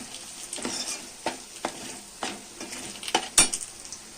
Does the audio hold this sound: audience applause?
no